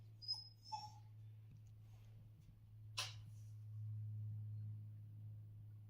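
A dog whimpers close by, with two thin high whines at the start and a brief snort later, over a steady low electrical hum.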